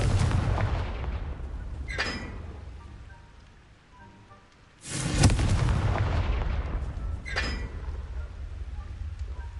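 Confringo blasting spell from the game Hogwarts Legacy, heard as three sharp, loud explosive bursts spaced a few seconds apart, each trailing into a rumbling, crackling decay over a steady low background.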